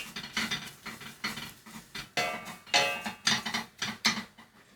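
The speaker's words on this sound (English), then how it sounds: "then we stir" A spoon stirs breadcrumbs in a pan, close up, with quick, scratchy strokes that scrape and patter in an uneven rhythm, alone with no talk.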